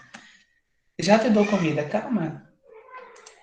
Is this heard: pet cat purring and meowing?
yes